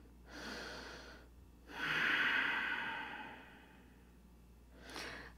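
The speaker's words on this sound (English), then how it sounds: "One more breath here." A person in a yoga hip stretch breathes deeply and audibly, with a long inhale, a slow swelling exhale and the start of another breath, all close and soft.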